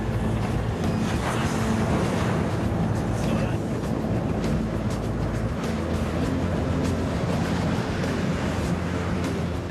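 A ship rides heavy seas in a South Atlantic storm, with waves rising 8 to 10 metres. A continuous loud roar of wind and breaking water fills the whole stretch, with low rumbling surges underneath.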